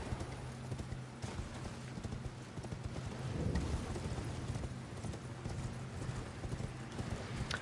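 A horse gallops in the video game Elden Ring, quick rhythmic hoofbeats pounding steadily and close throughout, with faint rain beneath and no talk.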